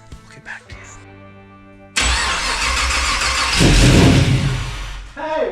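The new motor in a rat rod wrecker cranks over and catches roughly, a sudden loud engine roar that swells and surges unevenly after a few quiet seconds of people talking nearby.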